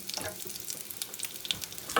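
Dry chilli and cumin seeds fry in mustard oil, giving a soft, close sizzle scattered with small crackles and stirring taps. No one speaks.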